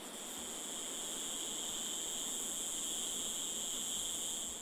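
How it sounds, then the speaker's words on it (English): Cicadas sing in a Madagascar mountain jungle, a steady, high, continuous buzzing drone holding at an even level throughout. "In the eastern mountains, the jungle echoes to the song of the cicadas."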